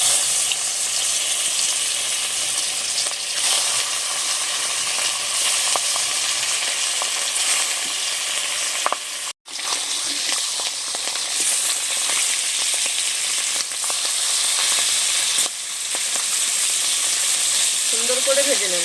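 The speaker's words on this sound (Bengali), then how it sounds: "তেল গরম হয়ে গেছে, এবারে মাছ ভেজে নেব।" Fish heads fry in hot white oil for a continuous, close, loud sizzle and crackle, with occasional stirring noises and a brief dropout partway through.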